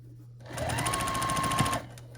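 A sewing machine runs one steady, close burst of stitching across the last seams of a baby-sized star quilt block being chain pieced, with brief quiet before and after.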